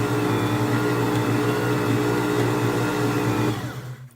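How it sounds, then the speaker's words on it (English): Stand mixer kneading whole wheat bread dough made with freshly ground flour, a steady loud motor whir with rhythmic thumping that winds down and stops near the end. "We'll just let the mixer mix it for a little bit without adding any flour."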